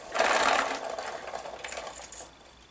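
Rubber-band motor of a model Vought Corsair aircraft being wound up, a close, steady whirring buzz that is loudest at the start and then eases off slightly, with no talking.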